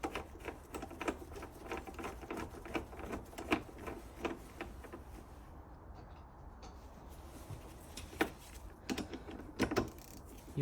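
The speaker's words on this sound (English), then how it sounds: "You see me using a ratchet here, just don't over tighten the screw." A hand ratchet turns screws back in on a 2011 Audi A4 B8 headlight assembly, giving a series of close, quiet clicking bursts in an irregular rhythm with short pauses between them.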